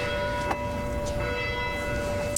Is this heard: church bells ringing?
yes